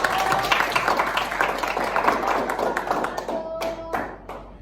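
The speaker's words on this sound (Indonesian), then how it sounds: "Tepuk tangan untuk kelompok 1" Classroom applause for a student group, a few seconds of mixed clapping and taps that thins out toward the end, with voices murmuring underneath.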